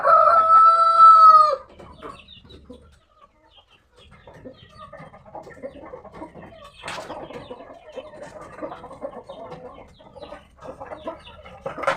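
A sick chicken crows briefly at the start, then breathes with faint, rattling, snoring rasps close by, while soft handling noises fill the quiet background.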